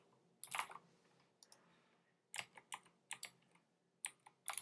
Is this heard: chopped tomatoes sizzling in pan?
no